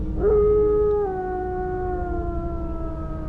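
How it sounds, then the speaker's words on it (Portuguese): A single long, mournful howl of a werewolf in pain rises sharply, then holds and slowly sinks in pitch, loud and close over a low background rumble. "Aquela coisa estribuchou no chão e começou a gritar e uivar de dor."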